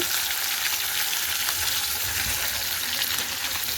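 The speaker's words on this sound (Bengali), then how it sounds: "তেলটা গরম হয়ে গেছে, আলুটা ছেড়ে দিলাম" Potatoes frying in hot oil for a katla fish curry, a steady dense sizzle that holds evenly throughout, close and fairly loud, with no voices.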